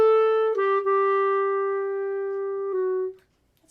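A single sustained clarinet note, rich in overtones, starts loud and fades gradually softer over about three seconds, with a slight pitch slip early on, before stopping into near silence.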